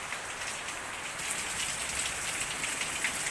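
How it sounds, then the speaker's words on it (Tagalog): Steady rain pouring down, a dense continuous hiss of drops hitting a surface, loud and close with no other sounds. "Ayan, umuulan po sa labas."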